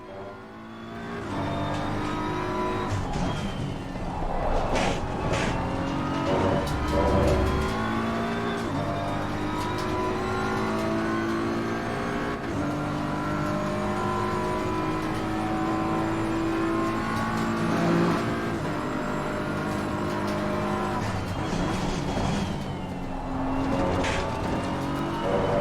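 A BMW race car engine in a racing video game at Monza drones steadily at high revs throughout, with shifting pitch through gear changes, faint rumble over curbs and other cars audible around it.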